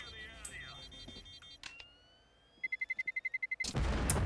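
A rapid series of beeping pulses builds up before a sudden loud, noisy bomb explosion at the end in Counter-Strike 2, with faint scattered sounds beforehand.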